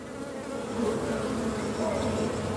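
Honeybees at an open hive during an evening inspection, their close, continuous buzzing rising slightly in loudness, with no talk.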